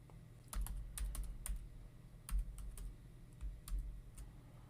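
Password being typed on a computer keyboard: quick clusters of soft key clicks with short pauses between bursts, close and quiet, with no talking.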